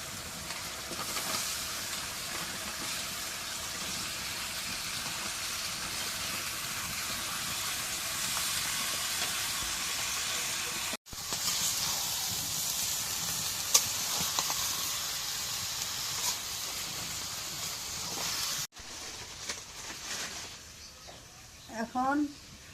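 Bottle gourd curry cooking in a pan, giving a steady broad sizzling hiss that runs throughout with a couple of brief breaks, while people talk over it.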